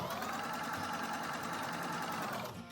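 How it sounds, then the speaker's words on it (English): A domestic sewing machine runs steadily as it stitches fabric, sewing in reverse while the lever is held, giving a close, even mechanical whir that slows near the end, no talking. "So on this machine, when I hold it down, it will sew backwards."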